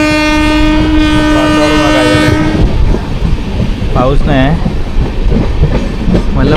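Jamnagar Tirunelveli Express running on the Konkan Railway, its horn sounding loud and sustained over a steady rumble of wheels, followed by rhythmic clatter and a squeal as a person speaks briefly.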